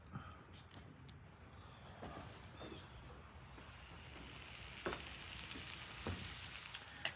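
Bacon-wrapped stuffed peppers cooking on a flat top grill, giving off a faint, steady sizzle and frying hiss with a few soft clicks and scrapes, and no one speaking.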